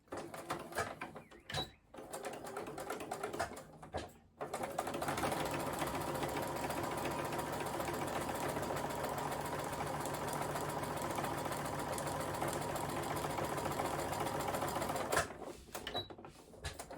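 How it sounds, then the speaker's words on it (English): A sewing machine runs a line of top stitching along a mock flat felled seam, a steady mechanical whir held for about ten seconds between brief, close starts and stops. "do another line of top stitching here a little bit further out"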